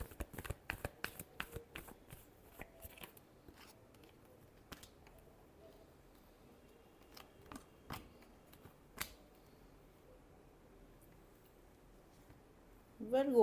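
Tarot cards are shuffled by hand in a run of crisp riffles and taps, loud at first and then sparser and fainter, set against a quiet room with a brief louder rustle at the end.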